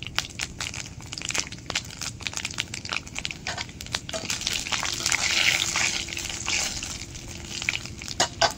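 Bay leaves, whole dried red chillies and five-spice seeds sizzling and crackling in hot oil in a pan, a steady close spitting hiss with scattered sharp pops that swells partway through.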